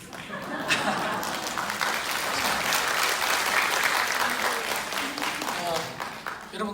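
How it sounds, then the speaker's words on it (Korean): Sustained audience applause fills a lecture hall at a group system-day event, broad steady clapping from many hands lasting several seconds, loud and even throughout with a faint murmur underneath. "한 분이 박수를 치셨는데 다 따라 치시지 않습니까?"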